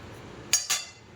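A metal lid set onto a cooking pan of chakuli simmering on low heat: two quick close clinks a fraction of a second apart, the second slightly softer, over quiet kitchen background.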